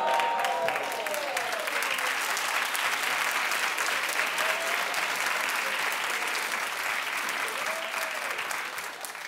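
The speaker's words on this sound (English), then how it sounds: "And you keep clapping." Studio audience applauding steadily on a daytime talk show set, a dense, loud wash of clapping that holds for several seconds, with faint voices and cheers mixed in.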